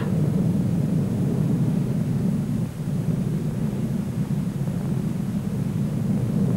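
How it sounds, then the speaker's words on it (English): An Avro Vulcan delta-wing bomber flies aerobatic loops and rolls at the Farnborough airshow, its engines a loud, continuous, deep roar that holds steady with only a slight dip partway through. "At Farnborough, this aircraft too gets into the aerobatic act."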